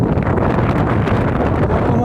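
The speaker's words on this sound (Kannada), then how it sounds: "ಸೊ ವಿಂಡ್ ತುಂಬ ಇದೆ" Strong wind on a hilltop near Bangalore buffets the microphone with a loud, continuous roaring rush that does not let up, with no voices heard.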